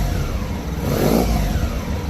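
Engine of a 1990 Honda ST1100 motorcycle running steadily at raised revs, a continuous mid-low drone that swells briefly near the middle, close and fairly loud with no talking.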